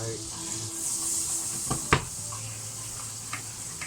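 Butter sizzles softly in a hot frying pan for a beef burger, a low steady hiss with a sharp clack of the pan midway and occasional light taps.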